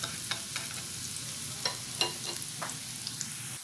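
Onions frying over low heat in a pan for a coconut-braised seitan dish sizzle steadily while a utensil stirs and scrapes them, giving several distinct clinks close up with no talking.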